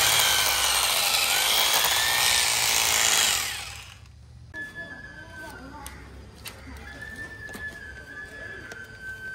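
An electric drill bores a hole for a switch pin on a Royal Enfield Interceptor 650 motorcycle: a loud, close, steady whir runs for about three and a half seconds, then cuts off, leaving quieter handling noise and faint sounds.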